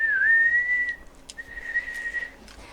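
A human whistle imitating the call of the Baiji, the Yangtze River dolphin: one long, steady high tone that dips slightly at first, a short break with faint clicks, then a second sustained whistle, fairly quiet and heard alone.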